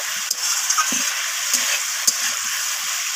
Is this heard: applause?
no